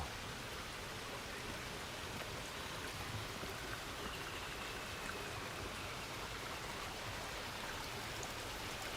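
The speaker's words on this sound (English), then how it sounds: "Nice sound of water." A spring-fed stream flowing among bamboo in Tokyo, a steady broadband rush of water that fills the whole stretch evenly, close and constant.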